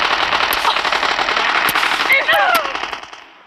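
Rapid automatic gunfire from the mobile battle-royale game PUBG Mobile, dense bursts of shots rattling loudly for about three seconds before tailing off, with brief game effects near the end.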